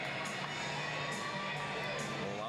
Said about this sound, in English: Caitlin Coe was getting some extra applause and a little bit of mobbing by her teammates down here to our left.